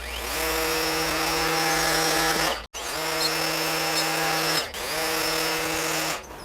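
A Makita ground trimmer cutting long grass gives a loud, close, steady motor buzz that cuts out briefly twice. It carries on alone, with no talking.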